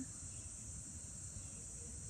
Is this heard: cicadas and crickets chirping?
yes